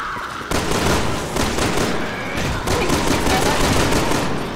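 Rapid bursts of gunfire from a weapon in the Resident Evil 6 video game, loud and close, coming in dense repeated volleys with brief gaps between them.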